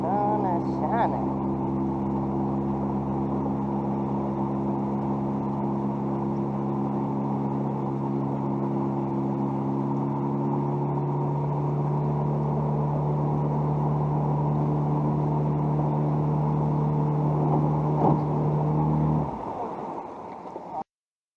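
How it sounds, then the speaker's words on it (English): An outboard motor on a jon boat runs at full speed with a loud, steady droning hum and water rush, holding constant for about nineteen seconds before abruptly cutting off. "don't leave your trolling motor down with the outboard going full speed."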